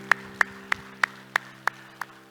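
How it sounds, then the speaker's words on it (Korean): Seven evenly spaced sharp claps in a church service, crisp and close over a low steady hum, slowing slightly toward the end. "우리 하나님께 영광의 박수합시다."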